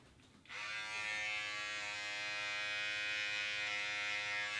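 An electric beard trimmer switches on after a brief rustle and buzzes steadily and close up as it shaves along a neckline, a tonal motor whine holding at even loudness to the end.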